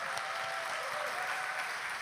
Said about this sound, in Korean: 박수로 한 번만 환영해 주시면 감사하겠습니다.